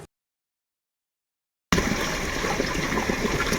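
Water gushes steadily into a sprayer pump tank mixed with pesticide for a cumin field, a loud, continuous pour that starts suddenly after a moment of silence.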